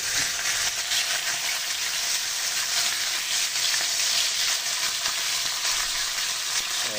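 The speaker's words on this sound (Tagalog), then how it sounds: "So guys, piprito na natin yung ating pork chop." Pork chops frying in a brand-new pan, a steady, loud broadband sizzle and crackle that holds evenly throughout with no talking.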